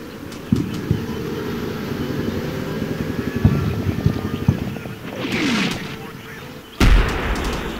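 Artillery fire in Combat Mission: Shock Force lands on a hill as a series of sharp thuds and booms over a continuous low engine rumble, with a louder impact near the end and brief whooshing shell sounds between.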